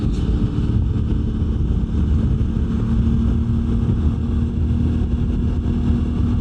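A CFMOTO 450 MT (Ibex 450) motorcycle with a 15T/45T sprocket setup cruises in 6th gear at about 5,100 RPM, giving a steady low engine drone with wind rush and no talking.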